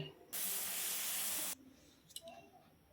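Water pours steadily into a pan of lentil chorchori for just over a second, a loud, broad rushing splash that stops abruptly and gives way to a faint clink and quiet kitchen background.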